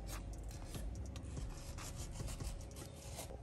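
Quiet scraping and rasping as material is trimmed from a BMW E46 M3 door armrest during a custom leather cover install, steady close rubbing strokes with faint scratchy accents, no talking.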